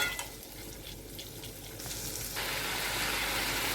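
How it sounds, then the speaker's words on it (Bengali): Potatoes and soybeans cooking in a pan with a little water added give a soft sizzle that rises partway into a louder, fuller bubbling hiss, close and steady, with no talk. "আলুগুলো কষে গেলে সামান্য একটু জল দিয়ে সোয়াবিনগুলো এর মধ্যে দিয়ে দেবো।"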